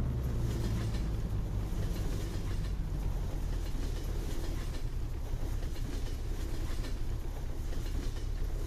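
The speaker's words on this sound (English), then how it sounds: "Oh, there's a train. Looks like we're gonna have to wait on the train here." A long freight train rolls past a road crossing in Farming Simulator 17, a steady rumble with rhythmic clickety-clack of wheels over rail joints, loud and continuous with no voices.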